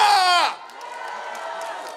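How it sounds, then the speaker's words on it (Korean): A crowd of elderly guests at a big community celebration shouts and whoops together in one loud burst, which drops off quickly into a lower, continuing hubbub. "기분 좋은 사람 소리 질러!"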